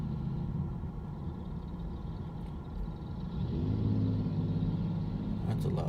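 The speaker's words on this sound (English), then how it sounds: "That's a loud truck." A loud truck on a Bakersfield street rumbles past, its low engine drone building partway through and holding strong near the end over steady street background.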